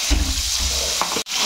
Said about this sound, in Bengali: এবার এই তেলে আমি সেই পেস্টটা দিয়ে দিলাম।